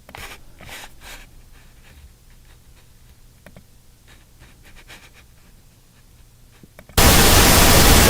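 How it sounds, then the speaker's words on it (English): Pink noise from a tone generator in a studio session, switching on abruptly near the end as a loud, dense, steady hiss after several seconds of faint ticking and handling sounds. "that's pink noise."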